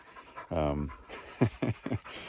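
A nine-month-old hunting dog on a Montana sharptail grouse hunt pants close by in quick rhythmic breaths, following a brief whine-like vocal sound, with someone talking under it.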